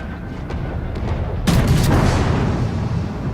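Naval guns fire in a World of Warships battle: a few distant thumps, then one heavy booming salvo that rolls out into a long fading rumble.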